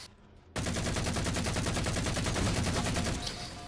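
A Z-130 Suppressor in a video game fires fully automatic, opening after a brief quiet moment into a fast, even stream of rapid shots that holds for nearly three seconds before stopping abruptly, loud and close.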